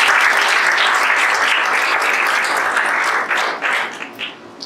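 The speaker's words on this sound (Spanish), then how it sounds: "El que quiera aplaudir al Señor, aplaude," A church congregation breaks into sustained, dense applause that holds steady and loud before thinning out in the final second.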